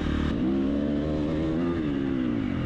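A Triumph 250 motorcycle engine runs close and loud, a steady buzzing drone with a slight rise in pitch partway through, heard alone without voices.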